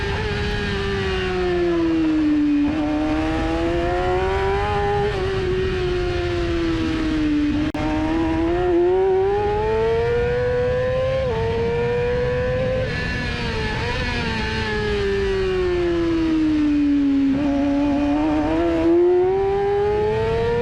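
A race car engine screams continuously through shifting rising and falling pitch, the sound of a competitor running close behind during a race, loud and sustained with no talk.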